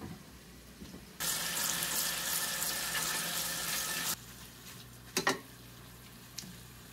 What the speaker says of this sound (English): to rinse our chili beans